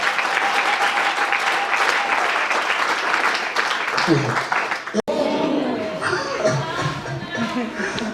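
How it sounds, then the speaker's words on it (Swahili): A congregation at a Swahili-language Christian church service claps together in loud, sustained applause, with voices mixed into the dense clapping. The texture shifts briefly midway and then carries on. "Mimi nakwambia mpigie makofi"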